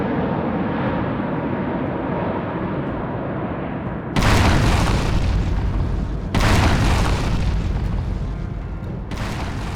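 Bombing explosions strike a tunnel as loud, heavy booms burst in twice over a rumbling airborne drone, each blast sustained and roaring before another hits near the end.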